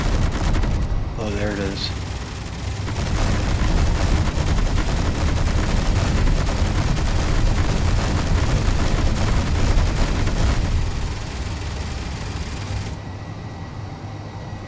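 Sustained rapid automatic gunfire from a weapon in Space Engineers rattles loudly as a dense, continuous burst for about ten seconds, then stops, with someone briefly speaking near the start.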